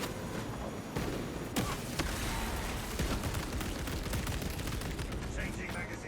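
An auto bolt rifle fires at swarming Hormagaunts in a video game, with rapid shots cracking over a dense, continuous wash of battle noise.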